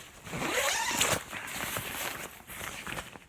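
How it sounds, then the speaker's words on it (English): An Arc'teryx jacket's weather-sealed main zipper being pulled open in a couple of long rasping strokes, close and clear, with some rustling of fabric. "it has a weather sealed main zipper. I'm going to open it up again."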